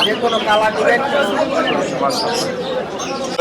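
At a busy Dhaka bird market, caged pet birds chirp and twitter in a dense, continuous chorus amid crowd chatter and nearby talking voices.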